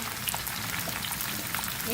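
Okra hits a pan of cooking mutton with a dense, continuous sizzle and bubbling crackle, close and steady throughout the short stretch.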